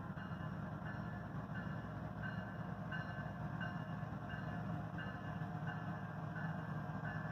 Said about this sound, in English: here comes a train leaving the yard